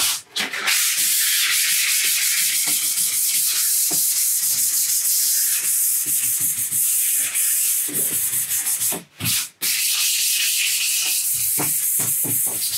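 Steady, close rasping of sandpaper rubbed back and forth over painted wood for an aged paint finish, loud and continuous with a couple of brief breaks.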